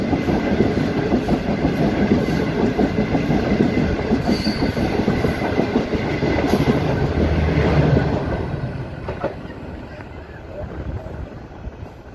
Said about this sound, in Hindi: 6 down green line मनक्याला railway station से क्रॉस पास हो रही है।